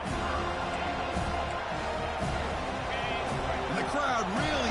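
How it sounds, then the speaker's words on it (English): Stadium crowd noise from the College Football 25 video game rises as fans roar to help the defense near the goal line, a steady wash of cheering with a commentator talking over it. "the crowd really making some noise now, trying to help out this defense to get this stop near the goal line"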